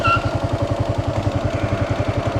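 Motorcycle engine running steadily while riding to work on a foggy morning, a continuous close drone with a regular pulsing throb and some mechanical clatter, no voices.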